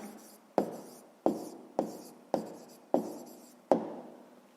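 A pen writing down a math answer on paper, seven sharp, evenly spaced strokes tapping down one after another, close and clear with no talk.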